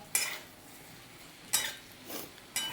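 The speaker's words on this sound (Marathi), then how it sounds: "आपण त्या तेलामध्ये आणि मसाल्यांमध्ये भोपळा आपण परतून घेऊया" Red pumpkin sautéed in oil with spices for a Banarasi pumpkin sabzi, heard as a few separate metallic scrapes and clinks of a spoon against the pan over a faint quiet sizzle, close by and without talk.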